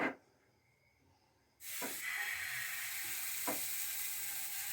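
Batter for pati-sapta hits a hot, oiled tawa and sizzles: after a short quiet gap, a sudden loud, steady hiss begins and continues, with a couple of brief crackles.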